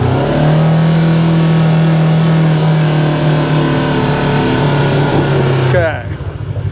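A Kawasaki KRX 1000 side-by-side engine revs steadily under load while climbing a hill in four-wheel drive, a loud close sustained drone that drops off abruptly near the end.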